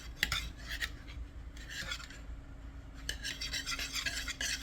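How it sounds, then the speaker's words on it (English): Eggs and melted butter being lightly whisked in a bowl, a soft, continuous scraping and clinking of the whisk against the sides in quick, uneven strokes, fairly quiet and close. "Just kind of lightly whisk them, she said."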